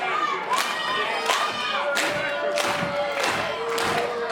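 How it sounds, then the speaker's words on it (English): Loud arena crowd at a tag team wrestling match cheering and shouting steadily, with recurring surges of roaring and thuds from the ring, no clear talk over it. "This crowd getting behind all four of these competitors."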